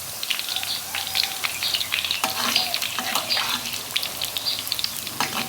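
Banana blossom deep-fries in hot oil over medium heat, giving a loud, continuous crackling sizzle with dense popping bursts throughout.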